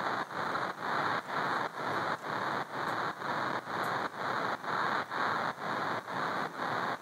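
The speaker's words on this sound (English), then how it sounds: "the most important thing about this white noise is this redux effect." Bright white noise hiss chopped into a fast, regular pulsing pattern by a gritty bitcrushed redux effect, about two bursts per second, steady and even, in an EDM production.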